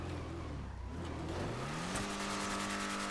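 A car engine in a driving video game revs up steadily with a rising pitch, loud and continuous throughout, with no talking.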